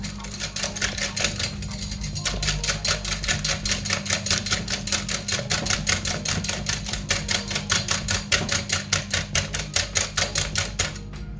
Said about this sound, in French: Je continue de fouetter.